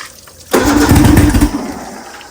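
A homemade race outboard motor roars to life as the throttle opens, a sudden loud, rough revving burst that holds for about a second and then gradually eases off, close up with no talking.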